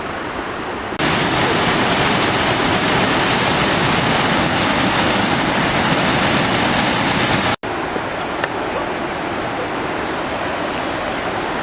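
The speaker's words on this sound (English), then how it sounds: "See that waterfall, Bailey?" A waterfall roars as a steady, loud broadband rush, rising abruptly after a quieter first second and continuing unbroken apart from a momentary dropout, with no voices over it.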